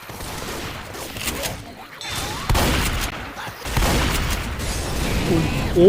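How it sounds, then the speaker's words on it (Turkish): Loud booming blasts and rattling bursts of an explosion amid gunfire in Left 4 Dead 2 VR, with voices talking underneath. "bu patlama ne lan böyle"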